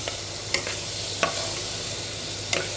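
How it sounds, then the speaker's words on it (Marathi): Black peas (kala vatana) are stirred and sautéed with masala for usal. A steady sizzle runs throughout, broken by three sharp scrapes of a spoon against the pan, and no one speaks. "काळे वाटाणे पण चांगलं त्याच्यामध्ये परतून घ्यावे."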